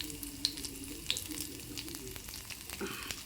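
A faint, soft sizzle of asafoetida tempering dropped into hot oil for drumstick rasam, with a few small crackles over a low hiss.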